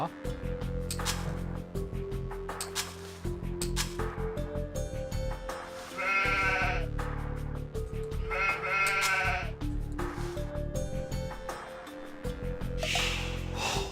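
Sheep in the strategy game Age of Empires II bleat repeatedly in loud, wavering calls, mixed with game sounds and layered music, while a voice talks throughout.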